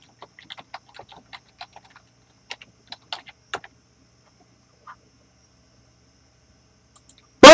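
Scattered keystrokes tap on a computer keyboard in short bursts, then a long pause with a few stray clicks and an abrupt noise at the very end.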